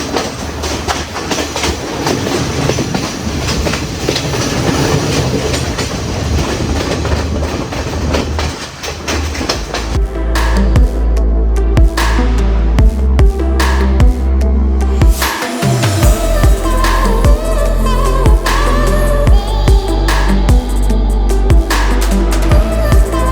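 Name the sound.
Ella Odyssey Express tourist train running in Sri Lanka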